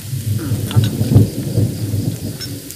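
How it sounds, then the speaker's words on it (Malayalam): Loud rolling thunder from a storm with no rain falling, heard while a mushroom curry is being cooked; a deep, continuous low rumble swells near the middle and then slowly fades, with no voices. "നല്ല ഇടി വെട്ടുന്നുണ്ട് അല്ലേ മേ,"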